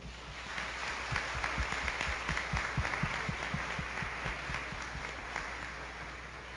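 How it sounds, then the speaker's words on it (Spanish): Congregation applauding children after their first communion at a solemn Ascension Mass in a church, a soft, steady patter of clapping heard from a distance over a low hum. "darle un fuerte aplauso"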